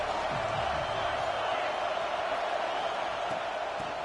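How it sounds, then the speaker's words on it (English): A football stadium crowd roars as a dense, steady wash of cheering and noise from many voices, loud and continuous throughout. "This crowd ready to make its presence known."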